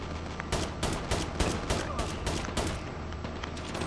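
Automatic gunfire from the Cougar gun in Call of Duty Mobile, a rapid string of sharp shots in bursts over about three seconds, loud and close, followed by quieter game sound.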